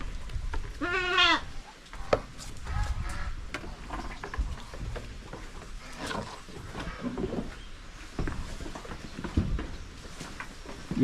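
Goats on a Philippine farm, including bucks, bleat nearby: one loud, wavering bleat stands out early, followed by scattered fainter calls and rustling from the herd.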